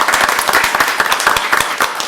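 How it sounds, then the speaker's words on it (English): Dense applause from the crowd at a city council meeting, many hands clapping quickly and continuously for sponsors, close and loud with no talking. "Applause for the sponsors."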